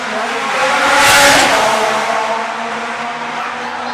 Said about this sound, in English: you get heckled by a motorcycle every once in a while